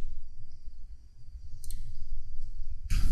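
A computer mouse clicks on a print button in a Microsoft Word lesson, giving a couple of sharp, brief clicks near the middle and another at the end over a quiet hiss.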